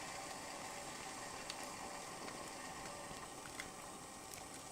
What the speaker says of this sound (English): the water is boiling now